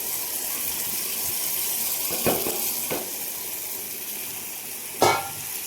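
Crushed green chillies hit a simmering fish curry with a steady close sizzle and bubbling, broken by a few sharper spits and a louder splash near the end.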